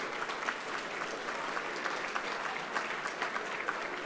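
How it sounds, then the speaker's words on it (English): Sustained audience applause at a fundraising dinner, a dense steady patter of many hands clapping throughout, moderately loud with no break. "another round of applause for VocalEssence"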